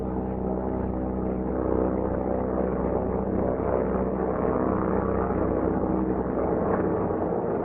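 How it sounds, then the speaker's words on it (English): Steady droning propeller engine noise of a troop carrier aircraft in flight with the prop windmilling after feathering, a continuous low rumble that stays constant throughout. "push the feathering button and hold until the prop windmills to between 600 and"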